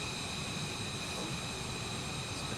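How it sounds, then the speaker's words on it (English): A Cirrus Vision Jet's engine in Microsoft Flight Simulator, a steady, even jet roar with a high whine, continuous and fairly loud throughout. "I'm personally flying the Cirrus Vision Jet from the marketplace"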